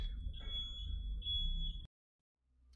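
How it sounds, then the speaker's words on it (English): A smoke alarm sounds a continuous high-pitched tone that wavers slightly over a low rumble, then cuts off abruptly into silence. "sorry for the beeping"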